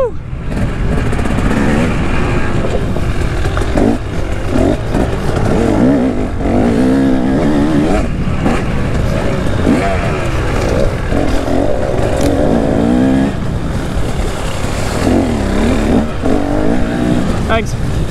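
A 2024 KTM 300 XC two-stroke dirt bike rides through woods, its engine revving and surging continuously and loudly up close, with a rider talking intermittently over it.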